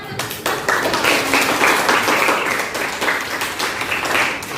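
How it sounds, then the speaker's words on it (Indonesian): Applause from students in a classroom, a few seconds of dense, steady clapping from a small group, fairly close and with no talk over it. "Berikan tepuk tangan"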